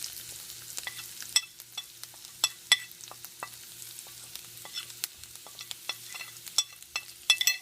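Ginger and asafoetida frying in a pan give a steady soft sizzle, broken by sharp spoon-on-pan clinks and stirring scrapes spread through the clip, with no talking.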